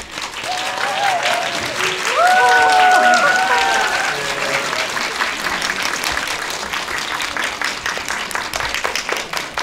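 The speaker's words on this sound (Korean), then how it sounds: "큰 박수 부탁드립니다." A theater audience at a tvN drama premiere gives warm, sustained applause as actors come out for a stage greeting, with voices and brief cheers rising over the clapping early on before it settles into a steady patter.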